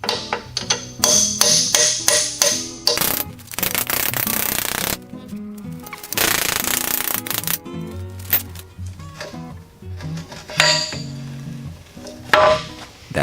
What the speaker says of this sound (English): Next, I tap the pins out with a hammer and punch.